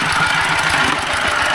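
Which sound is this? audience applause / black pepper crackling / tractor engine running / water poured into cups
tractor engine running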